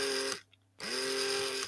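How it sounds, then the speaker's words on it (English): Small electric motor whirring steadily at close range, a high buzzing drone that cuts out for about half a second and then starts back up and runs on evenly. "But listen to that motor."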